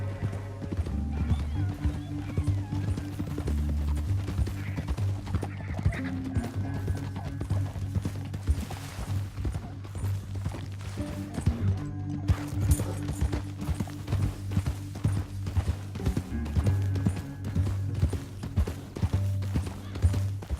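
Steady clip-clop of horse hooves trotting throughout in Red Dead Redemption 2, with a horse whinnying and background music or ambience underneath.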